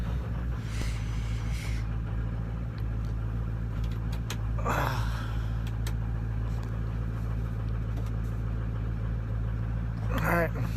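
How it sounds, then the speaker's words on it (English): A Ford 6.0 Powerstroke diesel truck idles after a cold start on an icy night, giving a steady low drone throughout. Brief faint voices surface a couple of times over the constant engine hum. "I'm gonna let my truck warm up for like 15 minutes"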